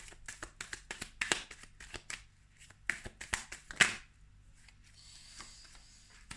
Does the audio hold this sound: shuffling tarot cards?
yes